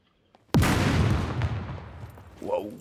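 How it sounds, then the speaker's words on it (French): A loud explosion erupts in the survival video game Scum, followed by a sustained rumble of gunfire that slowly decays, with a brief voice exclamation near the end. "Waouh, cette explosion."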